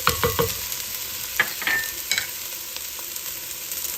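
Green peppers fry in olive oil in a pot with a continuous close sizzle, punctuated by stirring scrapes and clatters of a utensil early on, with no voices.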